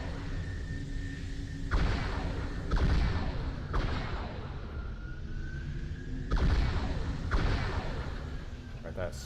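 Covenant longsword missile strike in a modded Halo 3 match, landing as a series of heavy booming bursts, about four or five close impacts spaced unevenly over a steady low rumble, with no talking.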